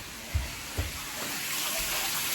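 Water runs steadily into a container at a home, a continuous broadband rush with a couple of soft thumps near the start, building to a fuller sound toward the end.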